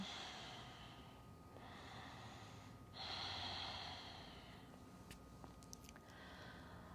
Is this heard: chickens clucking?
no